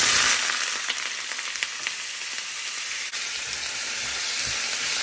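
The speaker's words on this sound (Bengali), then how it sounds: "তো এখন আমি গরম তেলে এগুলো ছেড়ে দিচ্ছি।" Chopped potatoes, onion and frozen green chillies hit hot oil in a brand-new fry pan for alu bhaji, giving a loud, steady hiss and crackle that holds throughout, with a few sharper pops and no voices.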